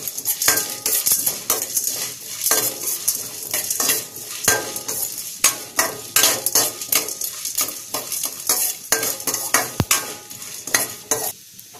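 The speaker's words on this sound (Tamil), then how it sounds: "ஜீரகம் மிளகு லைட்டாக வறுத்தரலாம்." Cumin seeds and black pepper dry-roasting in a bare pan with no oil, stirred steadily, giving a dense run of scraping, rattling strokes and light crackle, close and fairly loud with no talking.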